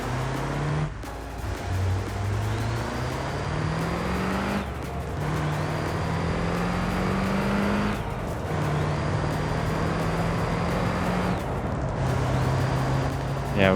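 A diesel V8 truck engine in BeamNG, droning loud and steady with repeated rising pulls and shift drops, accompanied by a high turbo whine, while someone talks intermittently over it.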